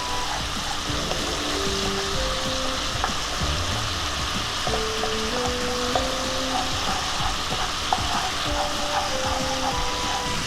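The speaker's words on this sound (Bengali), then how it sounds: "গ্যাসের ফ্লেমটাকে হাই করে আমি মশলাটা ভেজে নিচ্ছি।" Spice paste sizzling and frying over a high gas flame for Bengali-style hilsa fish in chili gravy, a loud continuous crackle with occasional stirring scrapes, steady and close throughout.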